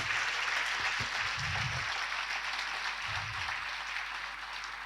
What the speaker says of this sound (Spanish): Dele fuerte el aplauso si es para el Señor